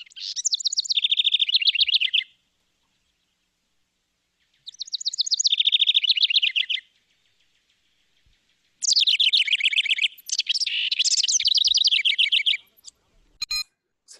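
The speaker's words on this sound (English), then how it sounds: "it is a jumble and it's rapid, kind of rapid chattering calls" Bursts of rapid, high-pitched chattering bird calls at Lake Tahoe in three bouts, cascading slightly down in pitch, clear and close, with quiet gaps between them.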